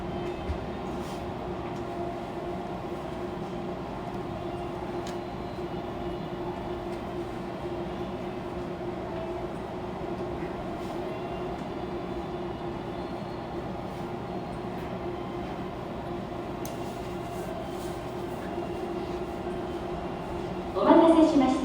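A Fukuoka City Subway 2000 series train, set 23, with late-type Hitachi GTO-VVVF drive, runs under manual operation: a steady, loud rumble with a constant motor drone throughout, and a brief louder squeal or tonal burst near the end.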